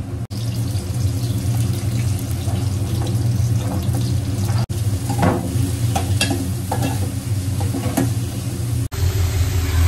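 Prawns being stirred into a ready gravy in a pan: a steady loud sizzle and bubbling hiss throughout, with soft stirring scrapes on top and a few brief cuts in the sound.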